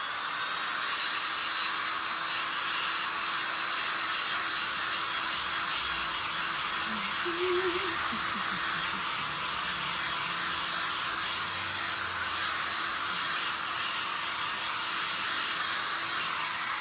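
A blower dries glass and resin art with a continuous, steady rushing hiss that holds evenly throughout, with a faint low hum briefly beneath it.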